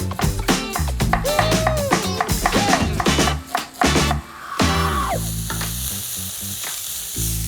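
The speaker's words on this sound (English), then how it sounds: "it's got a bit of a dry fry sound to it, and that's good" Beef mince dry-frying in a pan sizzles steadily up close as it is stirred and scraped, with clattering taps of the utensil and a voice speaking over part of it.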